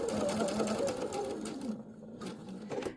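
A sewing machine stitches steadily along fabric at a short stitch length while forming a faux welt pocket, a close continuous whir that slows and stops near the end.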